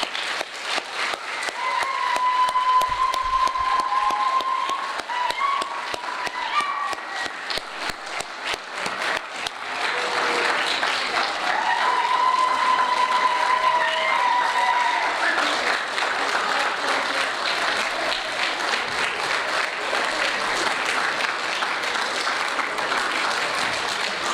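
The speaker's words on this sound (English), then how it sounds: "we're very appreciative of them, so we can give them a round of applause." Church congregation applauding its pastors at an appreciation service, sustained clapping from many people that swells, eases slightly midway, then builds again and continues steadily to the end, with a few whoops rising over it.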